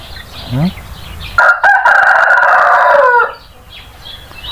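A rooster crows loudly and close by in a rainy rural yard, one long cock-a-doodle-doo after a short clucking call, with quieter bird sounds in the background.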